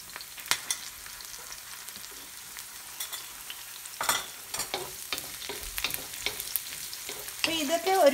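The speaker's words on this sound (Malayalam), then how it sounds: "ഇനി ഇത് ചെറിയ പച്ചമുളക് മാറുന്നത് വരെ ഒന്ന് വഴറ്റി കൊടുക്കാം." Green chilies sizzle in a hot pan for gobi manchurian, with soft frying crackle and intermittent spoon-stirring scrapes, fairly quiet and close, growing busier toward the end.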